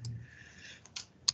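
Quiet, close clicking of keys pressed on a calculator, a few soft taps followed by two sharper clicks near the end, faint and sparse, with no talk over them.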